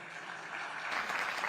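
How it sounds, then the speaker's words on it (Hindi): Short burst of audience clapping at an India TV election forum in a hall, faint and brief, swelling slightly louder toward the end. "थोड़ा ताली बजा दो यार।"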